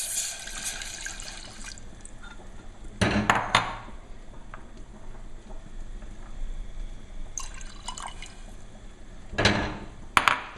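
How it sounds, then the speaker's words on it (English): Liquid ingredients, wine and butter for a beurre blanc sauce, pour into a saucepan in a few short splashing bursts, close and fairly clear, with quiet gaps of room tone between the pours. "we're gonna first take all of our liquid ingredients and put them inside a saucepan"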